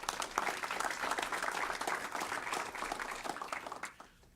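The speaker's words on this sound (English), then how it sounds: "Let's give them another round of applause" An evening community meeting audience gives a round of applause, with many hands clapping in a dense, steady patter that fades out near the end.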